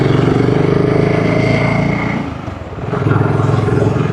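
BSA Gold Star 2025 motorcycle ridden through town, its throaty single-cylinder engine note loud and close, steady with a brief dip in revs midway before pulling strongly again.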